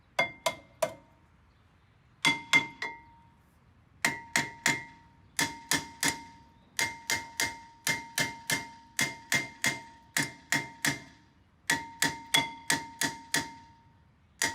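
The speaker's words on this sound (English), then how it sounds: "Usually you have to bang the heck out of them because they don't come off nicely." Metal hammer blows pound a stuck brake rotor on a 2005-2010 Jeep Grand Cherokee WK, sharp ringing clanks struck in quick clusters of several hits with short pauses between, loud and close.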